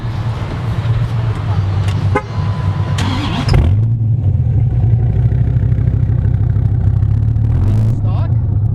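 A 2006 Dodge Viper fitted with a Belanger exhaust idles loud and close with a deep steady burble, blipping once near the middle, while people talk nearby.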